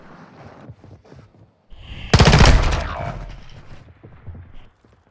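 Automatic gunfire in a Call of Duty MW2 Search and Destroy match, a loud burst of rapid shots about a second long that fades into echo, with someone talking before and after.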